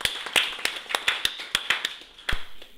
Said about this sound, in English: Give Prince Fadina, all the way from Lagos, a round of applause.